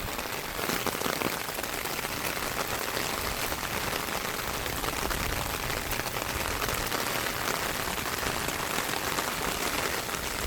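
Steady rain falling outdoors onto the ground and hard surfaces, a dense, even hiss of drops that continues unbroken and fairly close throughout.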